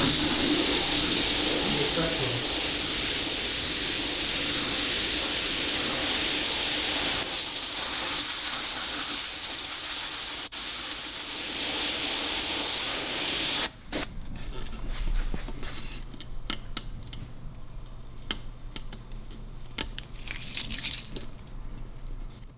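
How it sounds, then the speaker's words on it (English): An airbrush sprays black paint onto a custom crash helmet, a steady loud hiss that runs for about fourteen seconds, then cuts to quieter, intermittent spraying over a low background hum. "get your airbrush out with some black paint in it."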